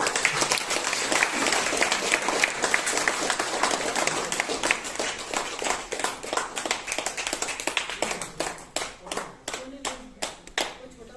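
Audience applause at a 55th birthday celebration for a spiritual sister, a dense burst of many hands clapping that thins toward the end into fewer, distinct claps.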